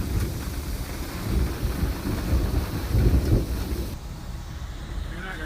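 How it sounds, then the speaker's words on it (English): Steady rain with low rumbling thunder swelling and fading in the background, a broad continuous wash that drops noticeably quieter near the end. "Here comes the rain."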